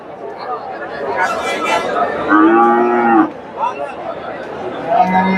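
A Friesian heifer lets out a long, loud moo close by at a cattle market, with lively crowd chatter and voices all around.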